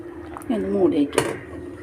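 A single clanking knock as a lid drops onto a cooking pot of sambar with tomato, onion and fried okra, coming right after a short stretch of voice.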